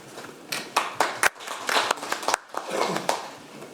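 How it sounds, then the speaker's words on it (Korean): Scattered clapping from an audience at a policy forum as the panel chair, a vice president of an otolaryngologists' association, is welcomed; separate claps and short bursts over about four seconds, moderately faint, with no talk over them. "그럼 큰 박수로 부회장님을 맞이하며 이만 마이크를 넘기도록 하겠습니다"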